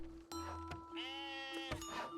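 Sheep in the Masterplan Tycoon sandbox game bleat several times in quick succession, close and clear, over a steady background tone with short sharp clicks between calls.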